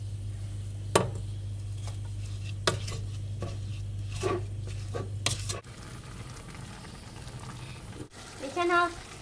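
Coconut candy mixture being stirred in a pot on a stove, with scraping stir strokes and soft bubbling sounds that come intermittently up close, followed by quieter cooking noise and a short clink near the end.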